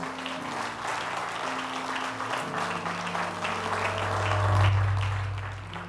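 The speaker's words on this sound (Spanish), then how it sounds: "¿Le podemos dar un aplauso al Señor?" A church congregation applauds during a Spanish-language service, steady moderate clapping with a low hum and tones from sound equipment beneath, swelling slightly toward the end.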